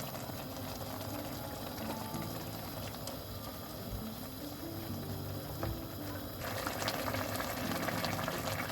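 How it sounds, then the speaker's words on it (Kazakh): Rice for Uzbek-style plov boiling in a covered pot over high heat as its water cooks off, giving a steady, close bubbling hiss with light ticking pops throughout. "Біздің қайнап суы тартылып жатыр"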